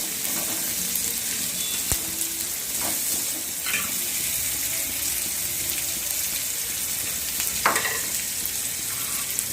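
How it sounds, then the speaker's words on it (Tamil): Onions sauté in a pan with a steady, close sizzle throughout, broken by a few faint clinks and stirring scrapes. "வெங்காயம் நல்லா வதங்கட்டும்."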